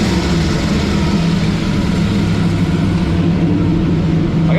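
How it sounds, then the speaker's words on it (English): A 40-year-old car engine idles high just after starting, a steady, loud, low rumbling drone held without a break, with a brief faint sound at the very end. "it don't really sound horrible. Just gotta figure out how to adjust the idle now."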